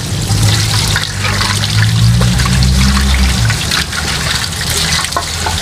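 Water pours and splashes steadily over parts of an Epson L120 inkjet printer being rinsed, close by, a continuous gushing trickle with a low hum underneath.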